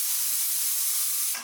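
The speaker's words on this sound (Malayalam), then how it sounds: "ഇപ്പോൾ നമ്മുടെ കുക്കറിൽ നിന്ന് 2 പ്രഷർ പോയിട്ടുണ്ട്" Kitchen pressure cooker cooking beef biryani blowing off steam, a loud continuous high hiss that cuts off abruptly after about a second and a half.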